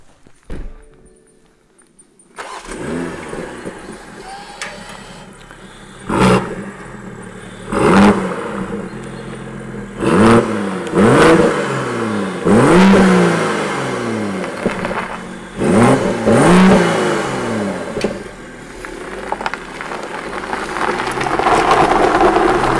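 A 2021 BMW M240i with 374 horsepower starts up and accelerates hard, its engine rising in repeated revving surges through the gears, loud and close, with a steady road and wind roar underneath.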